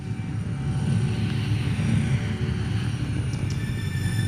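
A steady low rumbling medical helicopter engine drones throughout at a road accident scene, a nearby whirring roar that stays even in level.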